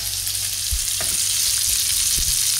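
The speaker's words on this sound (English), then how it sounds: "Add ginger and garlic paste. Cook it on a high flame for about 2 to 3 minutes until the raw flavors are gone" Ginger and garlic paste fries on a high flame with a loud, continuous close-up sizzle, broken by a few soft stirring knocks.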